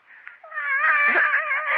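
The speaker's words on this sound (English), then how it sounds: "Mrs. Wilkes, I've told you never to let that cat in my room" A cat in a bedroom lets out a loud, close, drawn-out wailing meow that rises and holds for over a second, with no talk over it.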